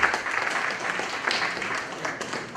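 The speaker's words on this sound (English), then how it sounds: "A round of applause for her." Audience applause at a business summit in Nigeria, a short burst of many hands clapping loudly at first, then settling into steady moderate clapping for a few seconds with no talking.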